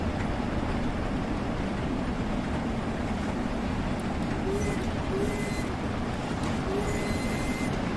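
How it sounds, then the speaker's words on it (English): In Train Sim World 2, a steam train slowly picks up speed on the Liverpool Lime Street to Crewe run, giving a constant, heavy rumbling roar with faint tonal hints. A voice talks over it. "it does take a little while to accelerate, but it is a steam train"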